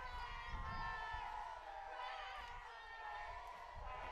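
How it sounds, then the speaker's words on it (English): Crowd at a high school football game between New London and Killingly, a continuous distant roar of cheering and shouting from the stands with rising and falling swells. "Crowd fired up here."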